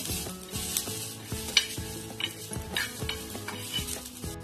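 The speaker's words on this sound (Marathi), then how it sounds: "याच्यातच मी कोथंबिरीच्या काड्या टाकून देते भाज्याला त्याही भाजून घ्या आपण थोड्याशा" Coriander stalks roast in a hot pan with a gentle sizzle while a utensil stirs and scrapes repeatedly, clinking against the metal in steady bursts; no voices.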